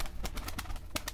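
Soft, repeated pigeon coos, several short pulses in a steady rhythm, fairly close, with no talking.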